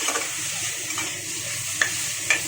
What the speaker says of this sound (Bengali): এখানে একটু শাকটাকে ভেজে নেব